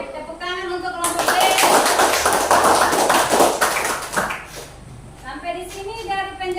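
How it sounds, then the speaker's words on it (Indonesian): A group of students in a classroom claps for their classmates, with loud, dense applause of about three seconds. Voices talk before and after it. "tepuk tangan untuk kelompok B"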